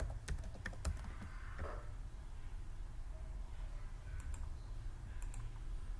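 A computer mouse button is clicked several times in quick bursts amid faint keyboard typing, all quiet and close, with a low background hum.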